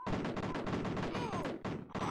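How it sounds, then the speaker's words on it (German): A rapid, dense barrage of overlapping explosions and bursts in the Amiga game Cannon Fodder, loud and chaotic, like a chain of grenades going off in quick succession. "Kann ja auch keiner damit rechnen, dass wenn man auf Granaten schießt,"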